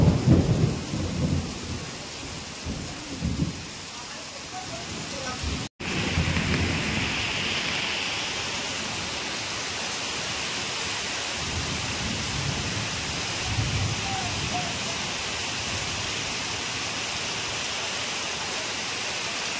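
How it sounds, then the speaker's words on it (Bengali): Heavy monsoon downpour hisses in a dense, steady roar, with deep rolling thunder rumbling low at the start and swelling again later; no one speaks. "বাইরে মুষলধারে বৃষ্টি হচ্ছে"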